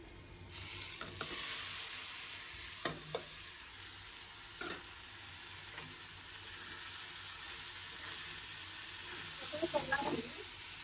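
Garlic and chili frying in a pan, a steady sizzle running throughout with a few sharp stirring clicks and scrapes, nearby and moderately loud, no talking over it.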